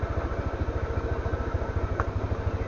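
A motorcycle engine labors up a very steep road in Barangay Luya, San Luis, Batangas, carrying three riders, its steady pulsing chug close and continuous with no talk.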